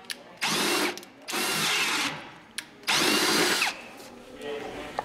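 A Milwaukee Fuel cordless drill whirs loudly in three long bursts separated by short pauses, close up, with a brief click between runs and no talk over it.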